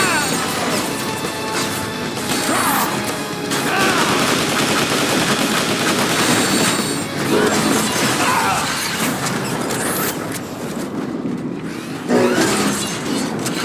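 Continuous gunfire and laser-like weapon blasts from the Transformers: War for Cybertron video game, dense and loud throughout with crashes and impacts mixed in.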